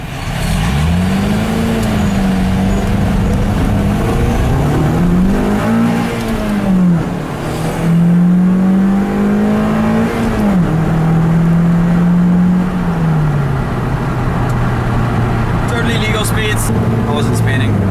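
Lotus Elise sports car pulling away from a motorway toll booth, its engine note climbing through several rising gear pulls and dropping between shifts, loud and close throughout with brief in-car sounds near the end.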